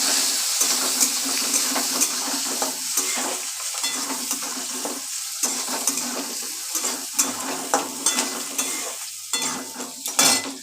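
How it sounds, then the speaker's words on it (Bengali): Chopped onion frying and being stirred in a pan, a continuous close sizzle broken by repeated scraping strokes of a spatula, louder bursts as the pieces are turned. "দিয়ে দিলাম পেঁয়াজ কুচি। এবার ভাজা ভাজা করব।"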